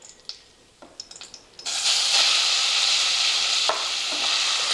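Grated raw totapuri mango hits melted ghee in a pan: a few light clinks of utensils, then a sudden loud, steady sizzle that carries on with faint stirring scrapes and no talk.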